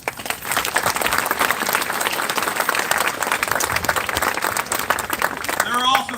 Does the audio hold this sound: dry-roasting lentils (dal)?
no